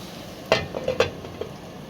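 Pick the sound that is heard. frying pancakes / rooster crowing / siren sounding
frying pancakes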